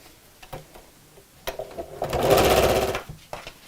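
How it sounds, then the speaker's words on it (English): Sewing machine stitching recycled denim bag pieces right sides together, with a few short stitching bursts early on, then a loud sustained run of about a second and a brief final burst, close by. "we'll sew these on right sides together"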